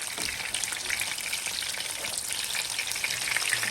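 Salami and cheese fry in a pan with a dense, steady crackling sizzle, close and continuous, with no voices.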